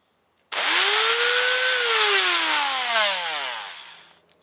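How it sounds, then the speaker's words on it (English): A Dremel rotary tool fitted with a number 61 drill bit spins up sharply, whines loud and close with a high rising then slowly falling pitch for about four seconds, then cuts off, with no talking. "This was my second Dremel that I've got."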